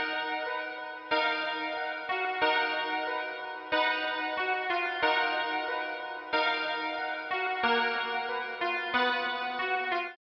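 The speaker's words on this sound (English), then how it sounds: "Together, those two patches sound like this." Layered synth keys and a soft pad play a sustained chord progression, chords changing every second or so, with gentle echo and no voices.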